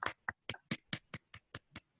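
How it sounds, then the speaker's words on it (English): A few sharp, evenly spaced hand claps ring out, about nine distinct beats in quick rhythm, close and fairly quiet, as a small online Toastmasters club meeting applauds a speaker. "Let's all give a round of applause for Cheyenne."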